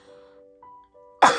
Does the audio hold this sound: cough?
yes